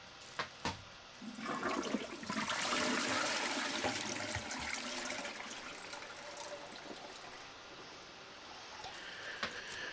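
An Up Flush toilet flushes with a strong rushing whoosh of water released from the tank, then settles into a steady trickle as it refills, close by and fairly loud.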